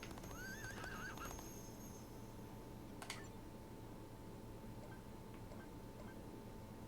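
Horses neigh and whinny amid clip-clopping hooves in a Disney Infinity horseback chase after the Cavendish gang, with a wavering whinny early on over a steady game soundscape and a sharp click near the middle.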